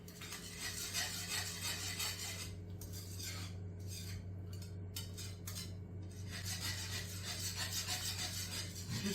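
A spoon or whisk works roux into a smooth sauce in a pan for chicken à la king, giving a steady continuous scraping and stirring sound that carries close and fairly soft with no talk.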